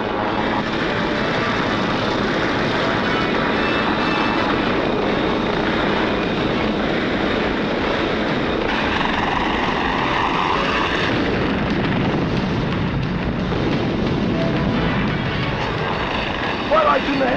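Helicopters roar through an action-packed 1992 theatrical movie trailer, a dense, loud wash of engine and rotor noise with dramatic sound layered over it, and voices are heard throughout.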